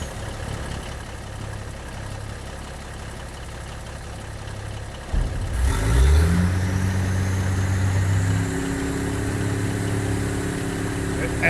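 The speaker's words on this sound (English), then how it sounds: "It actually sounds like a freaking dump truck." Truck engine idling in a farming video game, a modded vehicle likened to a dump truck: a low steady rumble that deepens and grows louder after a sudden start midway, holding an even drone to the end.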